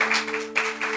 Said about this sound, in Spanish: démosle un aplauso a las mamás